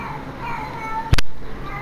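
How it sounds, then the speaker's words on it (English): A cat meows loudly nearby, with one sharp, sudden cry breaking through the low background of a game being played. "Stupid fucking cat never shutting up."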